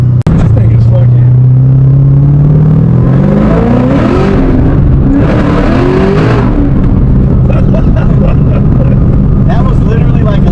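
A 1200 hp race car with a 427 LSX engine and a big race cam, heard very loud from close by as the engine note climbs and surges, a heavy roar running the whole clip with talk over it.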